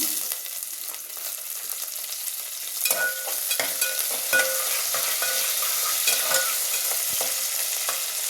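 Mustard seeds, spices, curry leaves and coriander crackle and sizzle in hot oil for a tempering, a steady hiss with scattered sharp pops that grows a little busier partway through.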